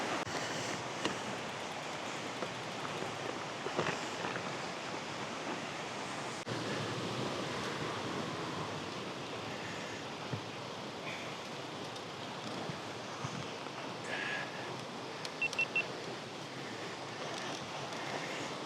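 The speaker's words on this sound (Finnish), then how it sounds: "Kyllä sitä ihminen vaan jaksaa katsella virtaavaa vettä." Flowing water in a mountain river during a cycling trip in Japan: a steady, broad rushing wash that continues unbroken for the whole stretch, with some wind noise and no talk.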